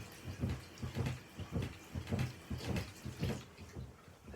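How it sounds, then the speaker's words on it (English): Water gurgles in rhythmic pulses as a water pistol is filled from a tap, a close, quiet series of sloshing glugs about twice a second that fades slightly toward the end. "This is how you fill a water gun when you're blind."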